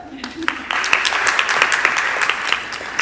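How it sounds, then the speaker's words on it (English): Audience applause at a healthcare education event: a steady wash of many hands clapping that starts quickly after a brief lead-in and holds at an even, fairly loud level throughout. "How about a big round of applause for the unsurpassable Chris Hall"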